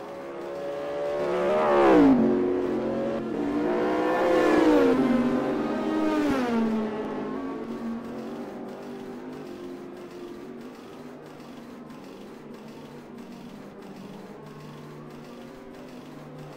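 Racing cars driving on a race track during a winter season race, an engine note revving up and down in a few swelling passes before settling into a steadier, fading drone, moderately loud and without talk.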